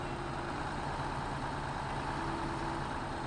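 Truck engine in the SnowRunner video game, stuck in deep water, a steady loud idling drone with a low rumble and a faint tonal hum, continuous and unchanging.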